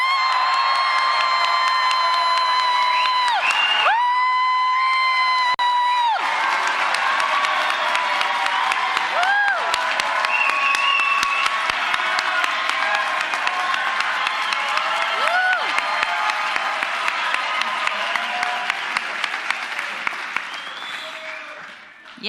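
A large crowd at a graduate convocation cheers and applauds loudly and continuously, with whoops and shouts rising above steady clapping that slowly fades toward the end.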